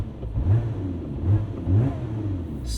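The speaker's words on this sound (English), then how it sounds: "You can hear that supercharged V6." A 2024 Lotus Emira's supercharged V6 revs from the driver's side, three deep throttle blips rising and falling in quick succession, loud and close with a rumbling idle between.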